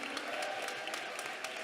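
Congregation at a Pentecostal prayer centre service clapping hands in praise, a quiet, steady wash of many hands with a few sharper claps standing out, heard from some distance under faint background voices.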